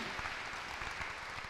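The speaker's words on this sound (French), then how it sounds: "Je pense que vous pouvez l'applaudir parce qu'elle vient que pour nous." An audience at a talk applauds a guest from the decoration world: a steady, dense wash of many hands clapping, continuous and fairly soft throughout.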